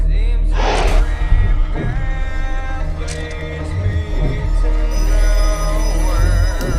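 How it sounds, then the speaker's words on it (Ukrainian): A telephone rings in a horror movie trailer for The Black Phone 2, the ring loud and continuous amid dense music and effects, with a gasp near the start. "Знову телефон дзвонить."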